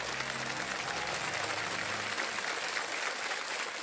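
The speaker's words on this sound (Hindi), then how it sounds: "तालियां बज जाए" Studio audience applause on the KBC quiz show, a steady wash of clapping filling the whole stretch at moderate level, with a low tonal murmur fading out in the first second.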